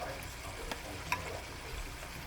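Plantain fries in a pan of hot oil, a continuous soft crackling sizzle with a couple of tiny ticks, close but fairly quiet, with no voices.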